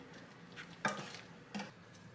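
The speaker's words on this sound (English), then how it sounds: "I'm just going to stir this, give it another good stir in." A spoon stirs a liquid-heavy dish in a pot with a faint simmer, giving two soft clinks against the side over a quiet background.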